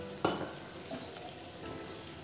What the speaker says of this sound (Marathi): आणि यामध्ये पाणी घालून घेऊया।